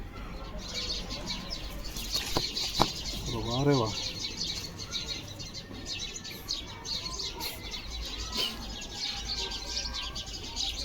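Pigeons in a loft give a few soft coos and brief wing flutters over a busy background, with a voice briefly heard nearby.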